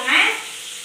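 Curry leaves and a pinch of turmeric hitting hot oil for a Tamil tempering, a brief bright sizzle that swells quickly and then settles into a softer steady crackle, close by and alone.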